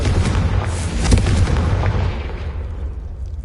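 A Confringo fire spell in the Hogwarts Legacy video game bursts with a loud, low booming blast that swells near the middle and then rumbles away, with no voice over it.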